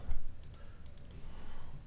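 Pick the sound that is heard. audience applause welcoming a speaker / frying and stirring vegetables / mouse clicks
mouse clicks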